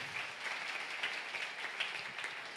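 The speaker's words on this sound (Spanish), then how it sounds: "Lo recibimos a él también. Amén. Con un aplauso." A church congregation applauds at a Sunday general service, a steady, moderately distant wash of many hands clapping throughout, fairly soft overall with no voices over it.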